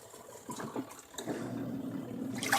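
Water drains from a Homeleader twin tub portable washing machine through its hose, a steady close rushing and splashing flow that swells slightly over its short span, with no talk.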